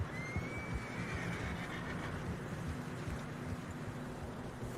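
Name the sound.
horse neighing, from the video game Red Dead Redemption 2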